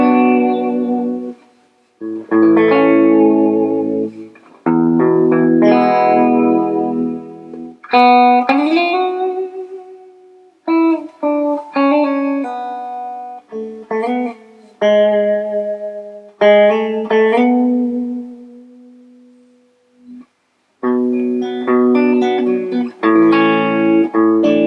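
An Arbiter SG electric guitar plays through a valve amp with a little reverb, a melodic passage of sustained notes and bends, warm and slightly reverberant, with brief pauses between phrases.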